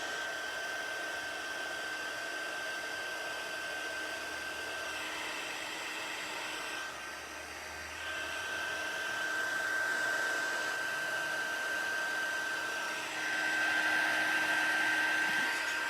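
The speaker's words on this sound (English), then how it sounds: "then a final bit more of heat embossing" Steady broadband blowing roar of a heat gun used for heat embossing runs nearly the whole time, dipping briefly near the middle and swelling a little louder toward the end, with no talking.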